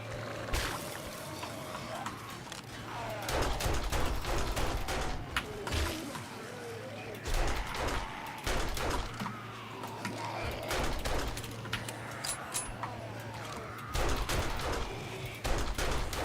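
Bursts of AK rifle fire in the zombie survival game 7 Days to Die come in rapid, crackling volleys over a low game rumble, mixed with other game effects and occasional talk.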